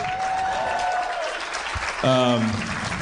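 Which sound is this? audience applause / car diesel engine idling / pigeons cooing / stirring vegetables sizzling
audience applause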